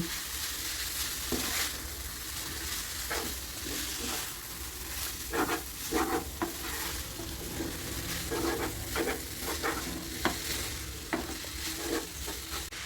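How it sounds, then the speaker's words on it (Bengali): Chicken noodles with two kinds of vegetables being stirred in a hot pan, a steady sizzle of frying broken by irregular clacks and scrapes of the utensil, close and continuous with no talking. "অল্প অল্প করে দিয়া নুডলসটি আস্তে আস্তে মিশাই এলো।"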